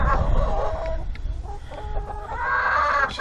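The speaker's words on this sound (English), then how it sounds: "And a chicken." A chicken clucks and warbles up close on a rural homestead, with a run of drawn-out calls and broken clucking over low background rumble.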